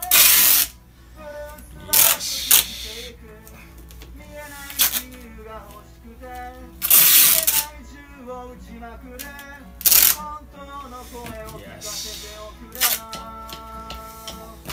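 Packing tape rips loudly from the roll in several sudden bursts as it is wrapped around a large homemade drum, with music playing steadily underneath.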